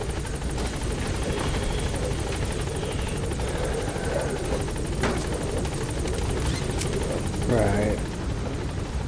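The Pequod helicopter in Metal Gear Solid 5 hovers at a landing zone, its rotor thrumming as a loud, steady whirring drone throughout, with speech over it.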